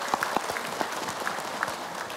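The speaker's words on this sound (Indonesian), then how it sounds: "Tepuk tangan dulu." A studio audience at a televised religious sermon claps together, with a dense, even patter and a few sharper individual claps standing out.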